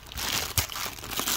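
Protective plastic film is peeled off a car part with one hand outdoors, producing a close, brief crinkling and tearing rustle with one sharper crackle partway through.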